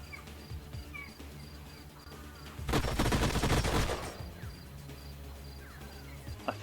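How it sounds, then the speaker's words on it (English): Sci-fi unit gunfire bursts out in a dense, roughly one-second volley during a battle in the strategy game Age of Wonders: Planetfall, standing out clearly against a low background hum with no talking. "I'm just going to charge in and try and shoot with the rest of them"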